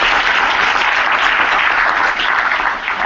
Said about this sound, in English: Jordan loves that applause.